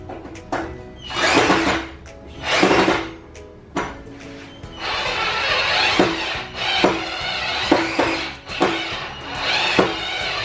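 A Mollar CDD585 12V cordless drill backs a screw out of wood in several whirring bursts, with clicks and knocks of handling between them, close by and without speech.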